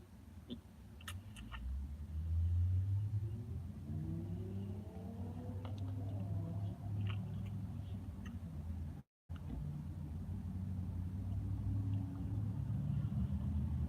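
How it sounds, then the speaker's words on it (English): Traffic heard from inside a moving car: a low engine rumble and road drone with rising and falling tones as the car accelerates, plus faint occasional clicks, steady and fairly quiet throughout. "Traffic is getting worse"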